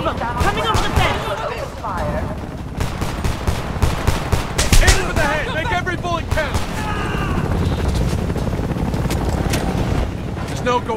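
Rapid gunfire bursts from the Homefront shooter game, played on an Intel GMA 4500M, crackling loudly and repeatedly through the whole stretch alongside shouting voices and battle noise.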